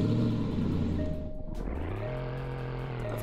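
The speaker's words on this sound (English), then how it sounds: "Of course, since this is a V8, it sounds amazing." A 2022 Land Rover Defender V8 with quad exhaust in a Roblox driving game: a steady, moderately loud engine drone idles, dips briefly, then settles at a slightly higher rev.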